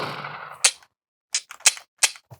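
Cardboard laser tag shotgun sound effect from an electronic toy blaster: a fading electronic tone, then several short sharp clicking bursts in quick succession, close and loud.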